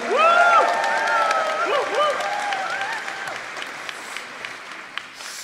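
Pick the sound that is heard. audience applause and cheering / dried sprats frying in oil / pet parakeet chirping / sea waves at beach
audience applause and cheering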